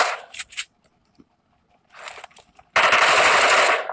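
Shotgun fire in the PUBG Mobile battle royale game: a couple of short, sharp bursts of shots, a pause, another cluster, then a loud, dense run of rapid blasts to the end, with no talking.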